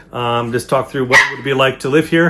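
A dog barks repeatedly in the background while a person keeps talking over it.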